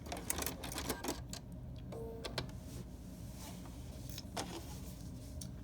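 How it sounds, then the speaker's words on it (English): A Bernina sewing machine stitching quilt binding with the #71 foot, giving quick mechanical rattling bursts with short pauses, close and moderately loud, with no talking. "Stitch a little bit more so I can take this out of the machine"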